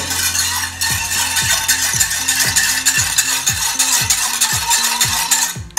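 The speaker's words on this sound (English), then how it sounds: "And let's add the agar-agar. Let's whisk a little bit." Agar-agar whisked into an orange caviar mixture: a steady, rhythmic run of close metal-on-bowl whisk strokes, repeating fast and evenly throughout with no talk.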